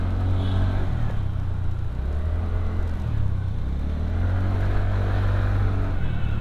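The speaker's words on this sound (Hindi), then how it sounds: "इसका एग्जॉस्ट का जैसा साउंड है ना, आपको लगेगा कि आप कोई बाइक चला रहे हो।" A TVS Ntorq 125cc scooter engine rumbles steadily through its exhaust, a low throbbing drone with gentle rises in revs, close and loud with no talking.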